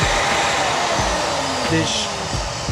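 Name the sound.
shop vacuum running, switched on with a power tool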